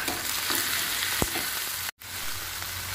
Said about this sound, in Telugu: ముందుగా కట్ చేసి పెట్టుకున్న బంగాళాదుంపల ముక్కల్ని ఇందులో వేసి బాగా కలుపుకోవాలి